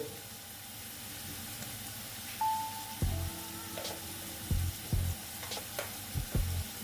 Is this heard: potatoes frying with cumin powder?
yes